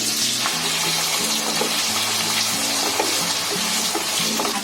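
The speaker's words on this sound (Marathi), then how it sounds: "आपली बटाटी फ्राय होतात आहे" Potatoes frying in oil in a kadhai for prawn biryani give a steady, dense sizzle that stays close and even for the whole stretch, with a low tonal hum underneath.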